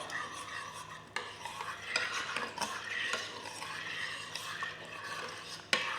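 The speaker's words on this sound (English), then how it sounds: "Give that bit of a stir." Sweet soy sauce is stirred through a mixture in a slow cooker, with a soft, steady scraping and swishing close by, marked by a few light clinks of the utensil against the pot.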